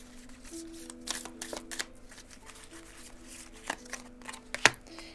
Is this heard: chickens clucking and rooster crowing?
no